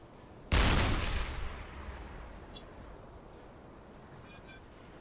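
A single loud deck-gun shot from a submarine in the game UBOAT, a sharp blast with a long rolling decay, followed later by a couple of faint metallic clicks.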